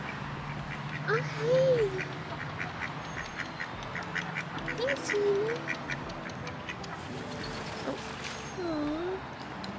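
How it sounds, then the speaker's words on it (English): Little ducks quacking outdoors, a few short quacks spread across the clip over steady ambient noise, while someone speaks softly to them. "We're on the way to look at these little ducks."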